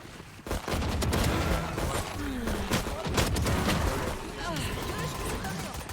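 Rapid gunfire bursts from the video game Valorant crack repeatedly over several seconds, dense and loud, with a player's voice talking over the shots.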